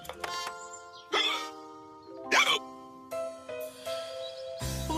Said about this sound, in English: I think you've got hiccups